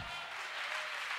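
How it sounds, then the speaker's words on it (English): Church congregation applauding at a service, a steady dense wash of clapping held at an even level throughout with no talk over it. "clap for Dr. Jesus."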